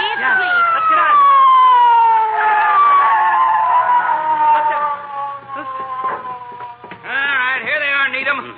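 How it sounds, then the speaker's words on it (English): A police car siren sound effect from an old-time radio comedy drama, a loud wailing tone that slowly falls in pitch, fades, then rises again near the end, with voices speaking over it. "McGee, I hear a siren."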